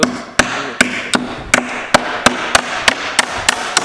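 A hammer strikes wooden pallet planks about a dozen times in a steady, even rhythm, each blow a sharp, loud, close knock ringing briefly in a quiet space.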